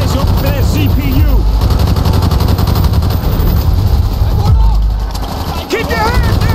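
Rapid automatic gunfire from the Call of Duty Black Ops campaign, dense sustained bursts loud and close throughout, with shouted voices and game effects mixed in.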